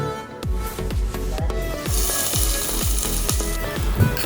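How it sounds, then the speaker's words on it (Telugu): Onions hitting hot mustard oil in a home kitchen, with a loud steady sizzle and a repeated rhythmic scraping or stirring of a utensil roughly every half second. "సో ఆయిల్ హీట్ అయిన తర్వాత ఆనియన్స్ వేసుకోవాలి"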